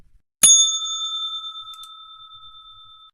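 A single bright bell strike marks a trading session, ringing out clearly and alone, its pure tone sustaining and slowly fading for a few seconds.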